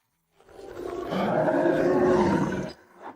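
Demonic gray wolves in an animated fantasy battle let out a single loud, sustained roar that swells, holds for about two seconds and cuts off, with no talk over it.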